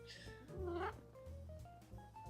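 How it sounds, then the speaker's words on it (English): A 21-year-old female cat lets out a drawn, rising-and-falling meow up close, followed by softer, shorter vocal chirps, with faint background sound and no clear talk. "That's my cat."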